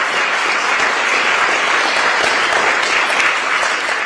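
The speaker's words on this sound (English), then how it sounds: "Give them a round of applause." Audience applause at a town hall where voters question Nikki Haley, a dense, steady roar of many hands clapping, loud and sustained throughout with no talking over it.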